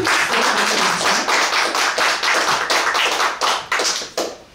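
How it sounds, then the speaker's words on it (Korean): Audience clapping at a political talk event, a steady patter of many hands with a few louder individual claps standing out, fairly close and filling the space before tapering off at the end. "홍보까지 큰 박수로 감사드립니다"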